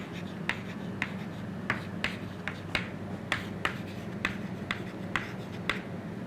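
Chalk or marker strokes on a board during an engineering lecture, a series of sharp taps and scrapes at irregular intervals over a steady low room hum, fairly close and moderately loud.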